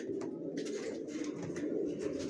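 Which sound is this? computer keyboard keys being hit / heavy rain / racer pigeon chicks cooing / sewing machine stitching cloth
racer pigeon chicks cooing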